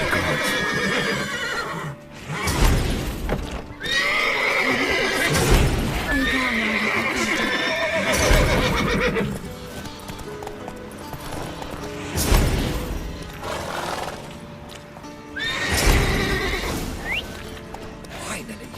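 Horses whinny and neigh repeatedly in The Witcher 3: Wild Hunt, several loud, close calls recurring every few seconds with hoof clip-clops and occasional voices beneath.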